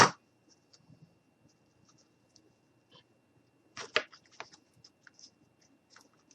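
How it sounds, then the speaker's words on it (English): Scissors snip through a boot-shaped ornament piece in a quiet room, several short crisp cuts clustered together after an initial sharp sound, with faint scattered clicks around them. "we're just going to cut off this piece here"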